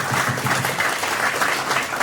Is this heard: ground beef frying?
no